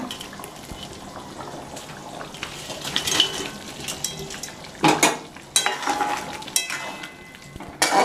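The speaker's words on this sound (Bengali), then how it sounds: "দেখুন গ্রেভিটা আমার ফুটে গেছে। এবার আমি সব দিয়ে দিচ্ছি কোপ্তা, মুইঠা কোপ্তা।" Muitha koftas drop into bubbling gravy in a pan, with soft simmering and sizzling under scattered spoon scrapes and clinks against the metal.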